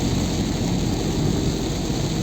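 Heavy rain pours in the Lonavala ghat on the Mumbai–Pune route, a dense, steady roaring hiss that stays uniformly loud without pause.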